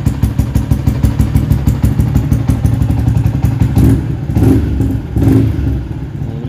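A Yamaha Y15 motorcycle with a spec 65 tune and ECU Tune Boss idles and revs close by, its engine chugging steadily with a few louder blips as the RPM falls back slowly.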